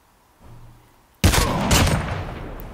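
A single loud sniper rifle shot in a video game, sudden and sharp, followed by a rumbling, decaying echo; brief faint tones precede it.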